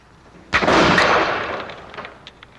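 A Pennsylvania flintlock longrifle fires once outdoors in the woods, a loud close blast with a long rumbling tail that fades over about two seconds.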